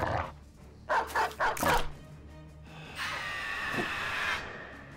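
A dog in the video game Battle Brothers gives a quick run of about four close barks or yips, then a sustained hissing, rumbling game noise follows.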